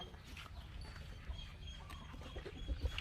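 Faint clucking of chickens in a quiet outdoor setting, scattered soft calls with light background noise.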